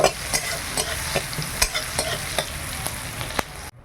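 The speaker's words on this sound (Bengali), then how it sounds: "পেঁয়াজটা ভালো করে ভেজে নেই" Onions frying in oil with hilsa fish hiss steadily while a spatula scrapes and stirs in short, repeated strokes, close and clear before the sound cuts off abruptly.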